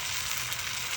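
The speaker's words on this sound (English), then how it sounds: "do you hear that sizzle?" Steak sizzles steadily in a hot skillet, a close, constant frying hiss lasting about a second with a small clink at the end, with no talk.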